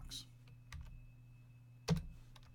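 A few sparse keystrokes on a computer keyboard, quiet and close, with one louder click near the end over a faint steady hum.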